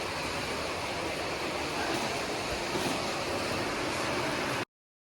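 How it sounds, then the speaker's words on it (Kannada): Heavy rain pouring down, a loud, dense and unbroken wash of noise that fills the whole clip with no voices before it cuts off abruptly near the end. "ಮಳೆ ಬರ್ತದೆ ಸಿಕ್ಕಾಪಟ್ಟೆ"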